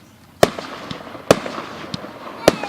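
Fireworks going off in three sharp, loud bangs spaced roughly a second apart, each followed by a brief rumble and faint crackle against a quiet outdoor background.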